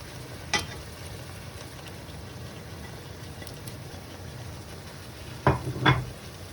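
Olive oil, lemon juice and onions sizzle softly with pork chops in a pan, a low steady hiss with a couple of brief louder clatters near the end as ingredients are moved, no voices.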